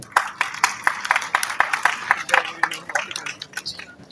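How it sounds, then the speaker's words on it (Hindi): Applause from a class, a scattered, uneven run of claps from several people at close to middle distance, continuing steadily with faint voices underneath. "तालियां यार अपने लिए"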